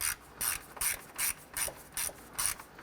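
A ratchet snugging bolts on a 2008–2012 Honda Accord A/C condenser and receiver drier assembly, a regular run of seven or eight short clicking pulls in an even rhythm, close and fairly quiet, with no talk.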